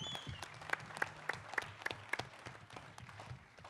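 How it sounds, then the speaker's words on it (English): Round of applause from the room at a post-event mixed martial arts press conference at Carnival City, with scattered loud individual claps standing out over a moderate, steady patter. "Big round of applause for all of you"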